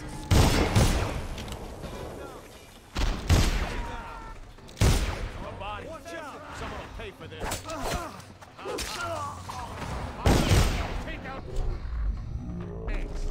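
Pistol and weapon fire in Dishonored on PS3, with explosive and regular rounds going off as loud, sharp separate bursts spread across the stretch, mixed with thuds and booms while a player talks between and over the shots.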